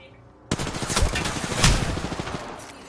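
A sustained burst of rapid automatic weapon fire in an Apex Legends Arenas match, starting abruptly and rattling loud and close for about two seconds. The shots run together at a fast, steady rate.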